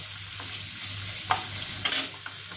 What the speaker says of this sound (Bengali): মাছগুলো একদম হালকা ভাজবো, বেশি ভাজবো না